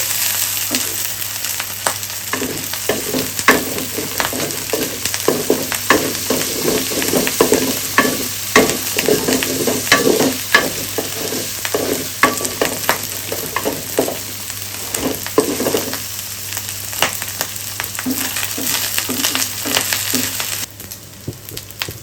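Dried shark fish fries in oil with a constant close sizzle. Frequent scraping and clacking stirs run through it before the sound cuts off near the end.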